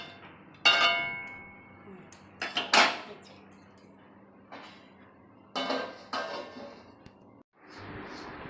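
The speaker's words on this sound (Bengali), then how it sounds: "এই যে শাকটা আমি বসাইলাম, এবার শাকটা ঢাকা দেব" A metal lid clinks and clatters onto a cooking pot of red amaranth greens in a home kitchen, with a few sharp, close metallic knocks spaced apart, a scraping rattle, and quiet stretches between.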